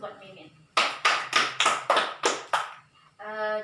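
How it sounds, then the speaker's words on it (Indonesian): A small group gives a short round of applause: about seven sharp, evenly spaced handclaps, close and loud, with a voice just before and after. "Aplaus buat Mimin."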